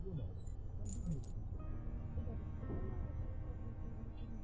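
Metallic keys jingle briefly as a key is lifted from under a flower pot on a windowsill in Black Mirror 2, a short bright clink early on over a low ambient game backdrop.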